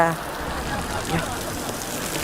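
Steady rain falling outdoors, a dense even hiss of drops on surfaces filling the whole stretch, fairly close and constant with no pauses.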